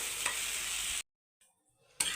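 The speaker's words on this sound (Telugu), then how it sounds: "ఈ విధంగా మనము కడిగేసి చింతపండుని కూడా వేసి బాగా వేయించేసుకోవాలి" Tamarind and gongura frying and being stirred in a pan for gongura pickle, a steady close sizzle with scraping stirs, then a pause of near silence before the sizzling comes back.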